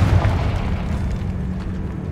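A Confringo spell explosion in the video game Hogwarts Legacy, a deep, loud boom that rumbles on steadily through a catacomb setting with no talk over it.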